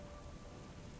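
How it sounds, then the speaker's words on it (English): Rain falling steadily all weekend, a dense, continuous wash of patter with a low rumble underneath, even in level with no pauses. "Actually, it's been raining all weekend over here."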